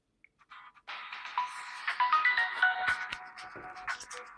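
A retro Samsung Galaxy Young S5360 smartphone plays one of its old ringtones through its loudspeaker, a bright melodic electronic tune of quick notes that swells and continues steadily, fairly close, with no talking over it.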